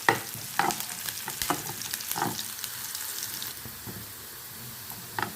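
Onions sauté in a pan with a steady, close sizzle and a few scrapes of stirring, which grows a little quieter toward the end, with no talking.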